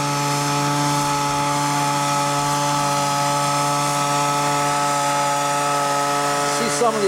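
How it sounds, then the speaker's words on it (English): Ryobi two-stroke motor running steadily at high revs nearby, a buzzing whine with strong even harmonics held throughout without pause. "There's this 2-stroke motor. It's a Ryobi."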